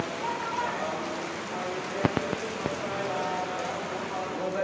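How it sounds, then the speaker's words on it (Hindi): Heavy rain pours straight down in a steady broadband wash, with a few sharp taps or knocks near the middle; the downpour fills the whole stretch at moderate, close range. "गाइस कैसी सीधी सीधी बारिश हो रही है, बिल्कुल सीधा गिर रहा है, जैसे कोई ना नल खोल दिए और नीचे पानी गिर रहा है बस।"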